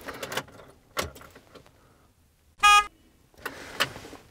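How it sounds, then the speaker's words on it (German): A single short, squeaky horn honk from a roughly 30-year-old 4x4 expedition truck, thin and high-pitched, surrounded by clicks and rustling handling sounds. "Ich mache euch mal eben vor, was die Produktmanager vor 30 Jahren als Hupe definiert haben."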